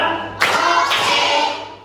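Students in a classroom clapping a counted clap pattern, two sharp group claps a half-second apart, each ringing briefly in the room before decaying, close and fairly loud.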